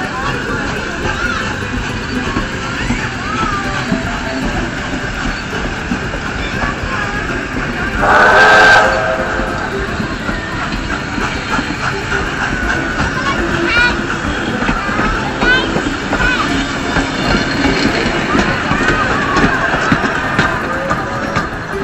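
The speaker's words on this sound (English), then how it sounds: "Steam train." A steam train on the Mornington Peninsula rumbles steadily beneath crowd chatter, and a brief whistle-like tone rises near the middle.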